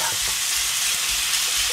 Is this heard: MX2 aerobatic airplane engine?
no